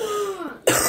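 A woman's bronchitis cough on waking: a drawn-out throaty, wheezy sound that falls in pitch, then a sharp, loud cough burst near the end, close to the microphone with no speech.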